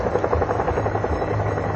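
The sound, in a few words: Chinook helicopter flying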